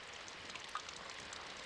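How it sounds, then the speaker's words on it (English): Steady rain falling outside in the visual novel game Symphonic Rain, a soft, even hiss of drops with a faint patter and no voices, quiet and continuous throughout. "it's raining outside"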